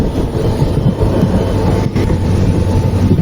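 A passing train rumbles loud and close, a broad steady roar of wheels on rails on an Indian Railways line.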